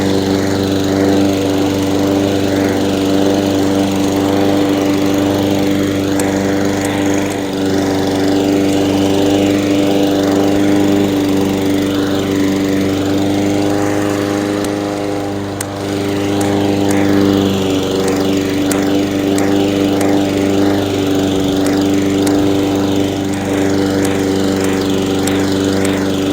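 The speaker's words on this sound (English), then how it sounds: "And that is another Rotary Mow." A rotary lawn mower cuts a Bermuda grass lawn being prepped for overseeding, its engine droning loud and steady up close for the whole stretch, with a brief dip in the middle before it picks back up.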